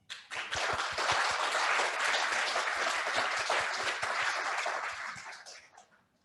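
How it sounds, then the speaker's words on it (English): Applause from the audience at the iBEAM launch ceremony in 2021, a dense roomful of clapping that swells quickly, holds steady and then tapers off toward the end, with no voices over it. "let's give ourselves a round of applause"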